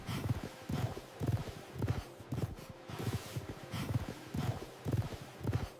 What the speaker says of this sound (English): A horse runs loose along an empty beach